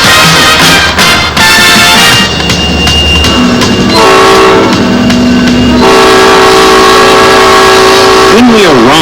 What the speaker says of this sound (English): This mile-long train is on its way to Hendersonville, 20 miles away.